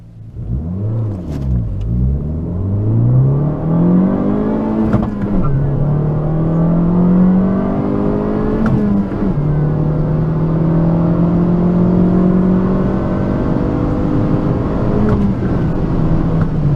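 A Fiat 500 Abarth's engine revs loud and close as the car accelerates, rising in pitch through the gears with brief dips at each shift and a steady throaty rumble throughout.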